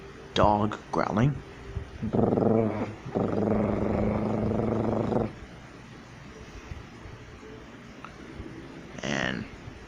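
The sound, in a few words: voice imitating a dog growling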